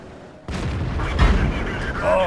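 A tank shell ricocheting off a T29's gun mantlet in World of Tanks: a sudden heavy boom with a metallic clang, followed by rumbling reverberation and a second impact near the end.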